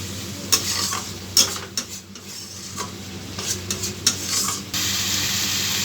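A spoon stirs masala with yogurt in a sizzling pan for potol dorma, giving close scrapes and clinks against the pan over a steady frying hiss that grows louder near the end.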